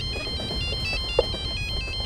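A phone ringtone chimes in a repeating electronic pattern, steady and moderately loud over a low background hum.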